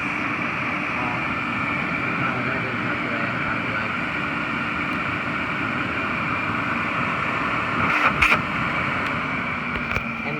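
A Filter Queen Majestic Triple Crown canister vacuum runs on its high setting with a steady, even, fairly quiet whooshing whir, broken only by a couple of brief clicks near the end.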